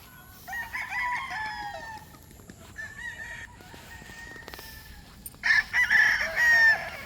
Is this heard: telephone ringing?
no